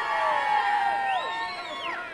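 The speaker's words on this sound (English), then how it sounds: "We're going to get a cheer out of them" A street parade crowd cheering and whooping for Glebe North Football Club at a Saint Patrick's Day parade in Balbriggan, a lively mass of voices with shrill whistles and shouts close by.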